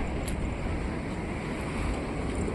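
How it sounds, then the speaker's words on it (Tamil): Sea waves at Kanyakumari, heard as a steady, dense wash of surf mixed with wind buffeting the microphone. The noise is continuous and loud, with no distinct breaks between swells. "இது கடல்."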